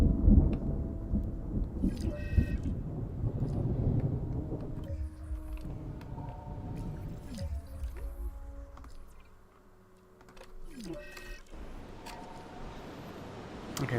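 Thunderstorm in the dinosaur park game Jurassic World Evolution 2: rumbling thunder and rain over a steady wash, fading to a quieter lull before the storm swells again, with scattered game interface tones.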